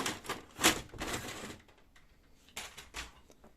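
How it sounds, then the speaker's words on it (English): Plastic paper tray pulled out of a Xerox B205 printer, a few loud rattling clacks and scrapes close by, then a quieter pause before two more sharp knocks. "remove the paper tray"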